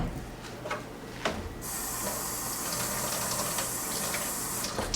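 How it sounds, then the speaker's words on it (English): A little water being added to ketchup, a steady pouring hiss that starts a couple of seconds in and runs on evenly, preceded by a few light clicks and taps. "And then I'll just add a little bit of water and mix it up."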